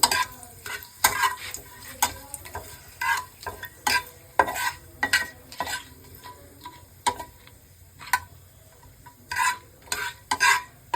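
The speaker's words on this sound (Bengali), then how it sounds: "এবার ফোড়নটা একটুখানি ভালো করে ভেজে নেবো" A tempering of dried red chilli and bay leaf crackles in hot oil while a spoon stirs and taps the pan in quick irregular clicks over a soft sizzle, close by and without speech.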